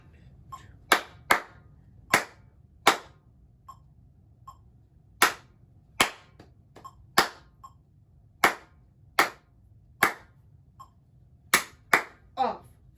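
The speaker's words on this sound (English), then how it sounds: "let's clap and count this rhythm now" Students in a music lesson clap out a rhythm while counting. Sharp, distinct claps come in an uneven pattern of single and paired hits over quiet room noise, with faint voices between the claps.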